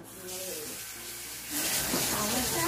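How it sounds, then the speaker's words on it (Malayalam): Dishes being washed under a running kitchen tap, a steady hiss of flowing water that grows louder and splashier partway through, with people talking over it. "പാത്രം കഴുകലും ഇതൊക്കെ തന്നെ"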